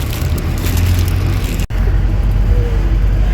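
A car travelling along a mountain road in Uttarakhand's Chamoli district, a loud, steady engine rumble and road roar close by, with a brief dropout midway before the drive noise resumes.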